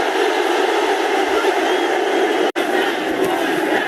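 A packed arena crowd cheers at a bare-knuckle fight night at the AO Arena in Manchester. The continuous, loud roar fills the space, broken only by a split-second dropout near the middle.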